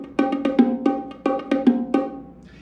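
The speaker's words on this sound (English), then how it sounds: "So the bongos are right here." A pair of bongo drums is struck by hand in a quick, uneven pattern of sharp, ringing taps, close and clear, with no one talking.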